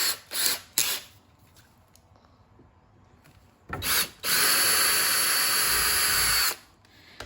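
A power drill with a 1/4 inch bit bores holes into the plastic bumper of a 2020 Dodge Challenger Scat Pack. Two short, close whirring bursts come first, then a quiet pause, then a longer sustained drilling run that ends abruptly.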